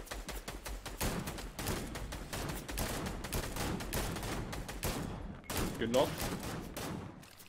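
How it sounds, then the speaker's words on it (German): Rapid volleys of gunfire in a video game shootout, dense repeated shots crackling throughout at moderate volume, with a voice speaking briefly over them. "Ja, ich werde von der anderen Seite beschossen."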